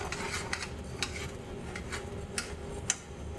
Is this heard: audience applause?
no